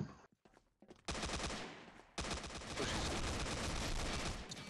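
Rapid automatic fire from an M4A1 Desert Warrior rifle in a shooter video game, starting after a brief near-silent gap, then sustained loud bursts of dense gunfire continuing to the end.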